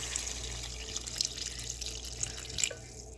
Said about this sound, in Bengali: এখন আমি একটু ঝোল দিয়ে দিচ্ছি।